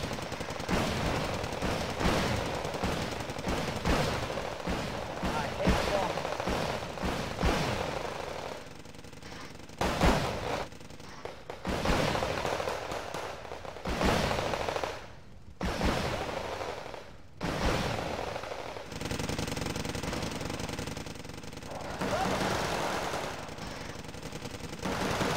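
Light machine gun fire from a battle in the real-time strategy game Wargame: Red Dragon, with rapid sustained bursts and overlapping volleys, steady and dense, with brief lulls between strings of shots.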